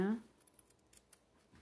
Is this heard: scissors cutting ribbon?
yes